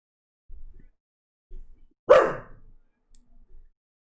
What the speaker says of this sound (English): he's literally right underneath me and he's just barking